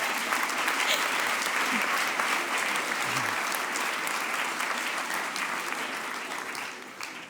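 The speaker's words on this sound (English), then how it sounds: "So a big applause for Konsti as well." Sustained audience applause at a speakers night event, dense, even clapping from a large crowd that carries on for several seconds and slowly fades near the end.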